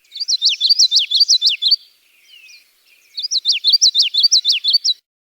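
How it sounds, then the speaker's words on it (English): A common yellowthroat warbler in Maine sings two clear, close bursts of rapid, repeated high-pitched phrases, separated by a brief pause holding a faint softer note, with no voices. "one of the most abundant warblers in Maine, the common yellowthroat."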